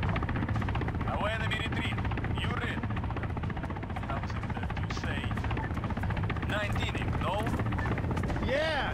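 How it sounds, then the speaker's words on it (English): A military transport helicopter in Arma 3 drones continuously with a steady rotor buzz, loud and close, while a voice speaks over it and occasional chirping effects cut through. "Of course, that's a transport chopper."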